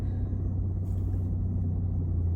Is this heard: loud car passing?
yes